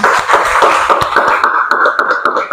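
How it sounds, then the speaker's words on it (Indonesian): Classroom applause for a student named Natalia: a fairly dense patter of hand claps from a group, loudest at the start and thinning into scattered claps toward the end. "Kita beri aplaus dulu untuk Natalia"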